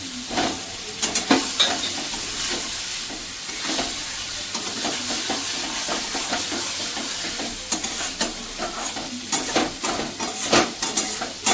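Spice masala frying with eggs in a pan for egg curry, a constant hissing sizzle broken by repeated clicking, scraping spatula strokes throughout, no speech.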